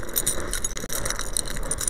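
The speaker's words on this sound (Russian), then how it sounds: "Ключик." Keys jingle and clatter close up as a door key is handled at a small hut in -20 degree frost in Murmansk, a brief bright metallic rattling with a few soft knocks.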